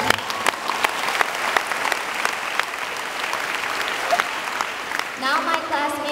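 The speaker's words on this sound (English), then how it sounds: "Let's give them a round of applause." Audience applause at a school presentation on local food: moderately loud, even clapping that runs on for several seconds, with a voice starting to speak as it fades near the end.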